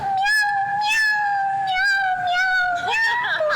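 Voice actors imitate cats with sustained, sing-song meowing, continuous and loud, several drawn-out mews rising and falling in pitch up close.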